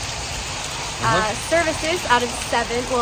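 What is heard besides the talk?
pouring rain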